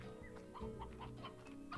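Hens clucking in a French farmyard henhouse, a few soft, close, broken clucks and calls over steady background noise, no talk.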